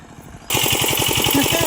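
Water pump machine draining a fish pond, a loud, steady rapid engine chugging that starts abruptly and runs on close by.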